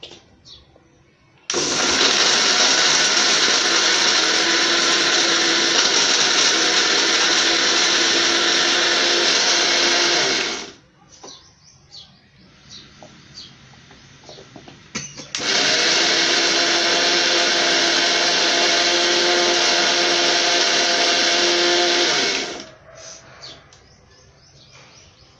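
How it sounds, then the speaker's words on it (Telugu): A kitchen mixer grinder runs in two loud, steady bursts of about nine and seven seconds, grinding spicy garlic chutney powder, with a short quiet pause between them. "మిక్సీ పడుతున్నాను."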